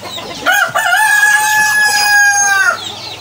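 A Brahma rooster, about seven years old, crows once loudly and close, a single sustained call lasting a couple of seconds that starts with short clucking notes.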